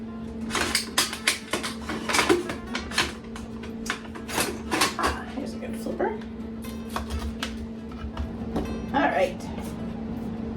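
Food flipped one piece at a time in a frying pan while making sloppy joes, giving a run of close, sharp metallic clinks and scrapes over a steady low sizzle hum.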